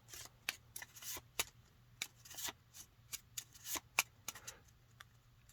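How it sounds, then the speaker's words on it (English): A deck of action cards for the board game Dragons of Etchinstone is shuffled close up, giving a quick series of crisp riffling and snapping bursts in an otherwise quiet room. "And you give them a shuffle."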